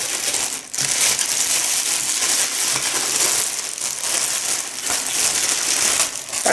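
The plastic packaging bag of a Kitfort KT-1329 coffee grinder crinkles and crumples loudly and continuously up close, with brief pauses between bursts of handling.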